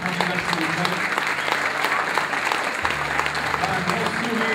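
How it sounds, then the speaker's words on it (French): Audience at a Madame France 2015 casting applauds the candidates, a steady burst of clapping from a crowd with a voice speaking over it. "Applaudissements pour les 15 premières candidates, s'il vous plaît."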